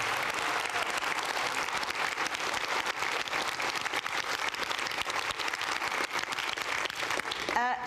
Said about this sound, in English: might even give her another round of applause for that